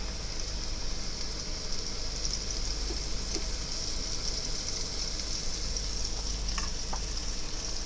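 Fresh mushrooms, cut into big pieces and salted, fry in a pan with a steady, even sizzle that holds throughout, with a few faint stirring clicks.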